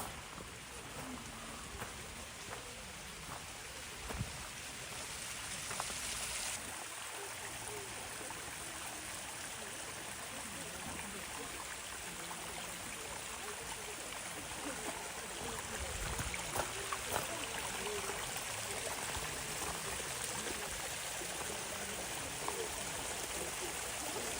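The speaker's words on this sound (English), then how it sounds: "Sound of the water." Water flowing steadily in a small stream in a Tokyo garden, a continuous soft rushing and trickling that stays even and fairly quiet throughout.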